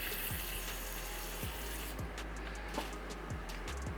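Water sprays from a hand sprayer into a plant pot during potting, a steady hissing rush of water with faint low thumps underneath, continuous and close.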